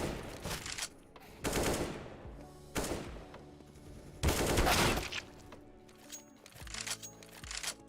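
Gunfire in the video game CS:GO comes in several sharp bursts of rapid shots, separated by short pauses, moderately loud with no talking over it.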